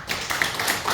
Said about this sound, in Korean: 나오실 때 우리 박수로 맞이하겠습니다.